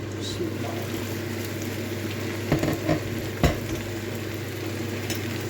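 Homemade chicken fillets cooking in a pan, a continuous close frying sizzle with a low steady hum beneath and a couple of brief clatters from handling the pan.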